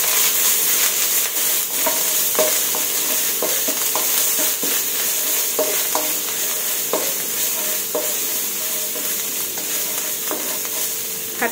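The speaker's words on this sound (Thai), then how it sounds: "ผัดพริกแกงเผ็ดให้หอมค่ะ" Red curry paste stir-fried in a pan for a pork and long bean dish, steady loud sizzling with repeated scraping strokes of a spatula at an irregular rhythm, no voices.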